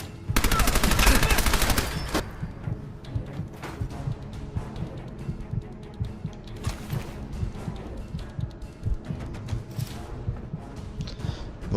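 A burst of rapid automatic gunfire from a weapon in the video game Fallout 4 opens the sequence, followed by scattered sharper shots and impacts over a busy game soundscape.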